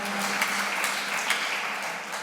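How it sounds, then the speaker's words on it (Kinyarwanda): Church congregation applauding God together after a sermon, a steady, dense wash of many hands clapping that fills the room throughout, with a few sharper claps standing out and no speech. "Mumere Imana amashyi menshi kuko yakwiriye"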